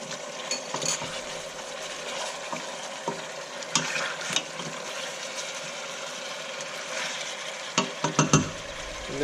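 Food frying in a pan, a constant sizzle with intermittent scrapes and clanks of a utensil stirring through, a cluster of knocks toward the end.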